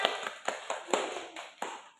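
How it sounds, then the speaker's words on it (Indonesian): Scattered classroom applause from a small group of junior high students, a few sparse claps spaced irregularly, fairly close and moderate in level, with no talking over them. "Tepuk tangan"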